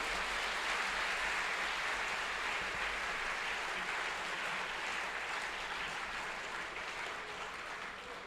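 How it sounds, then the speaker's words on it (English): A large audience applauds after a speech at a Christian missionary education gathering, with steady, dense clapping that holds throughout and fades slightly near the end. "I think we could give a louder round of applause"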